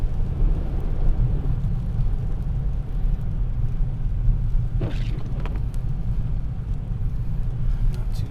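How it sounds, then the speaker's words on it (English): A Toyota Corolla E210 hatchback on TEIN springs and Nitto tires pulls steadily uphill on a slippery unpaved road, a constant low engine and road rumble filling the interior, with a brief higher whine midway. "I'm still giving it gas up this hill."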